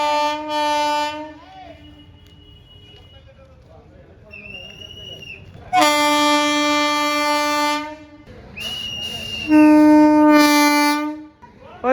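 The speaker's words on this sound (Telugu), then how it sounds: "వచ్చేసింది తెలుగు రాష్ట్రాల్లో మొదటి అమృత్ భారత్ ఎక్స్ప్రెస్" An Amrit Bharat Express train arriving at a station blares its horn in long, loud blasts several times, with rumbling rail noise and faint voices in between.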